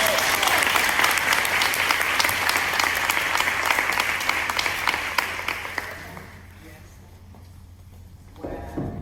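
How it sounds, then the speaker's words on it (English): Lively audience applause for scholarship-winning girls at a women's scholarship luncheon, loud and dense at first, then tapering off into quiet room tone before a voice comes in at the end. "Can we give the girls a round of applause?"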